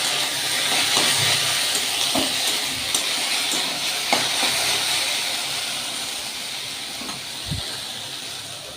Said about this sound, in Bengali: ভেন্ডি ভাজা বসিয়ে দিয়েছি